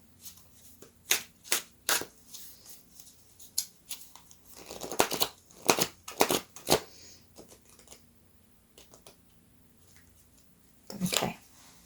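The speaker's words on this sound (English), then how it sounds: "I shall pull you out a card now and let's see what the message is." Tarot cards shuffled and drawn from a deck in bursts of crisp riffling and slapping, loud up close, with quiet gaps between flurries and a final burst near the end.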